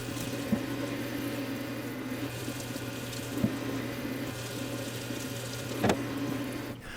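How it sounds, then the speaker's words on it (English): Water runs from a high-powered kitchen sink spray faucet over vegetables being rinsed, a steady hiss with a low hum and a few brief clunks and splashes. "I personally just use warm water and a high-powered shower spray faucet, and then I rinse them off with my reverse osmosis water spigot"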